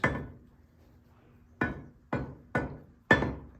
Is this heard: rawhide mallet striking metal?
yes